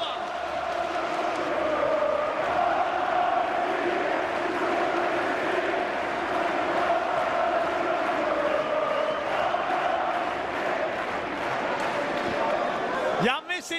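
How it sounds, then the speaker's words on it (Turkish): Basketball crowd chanting a player's name inside the Ataşehir arena during a Fenerbahçe–Bayern Munich game, a steady loud roar of massed voices filling the hall throughout, with a brief sharper burst near the end. "Veseli tezahüratları Ataşehir'de."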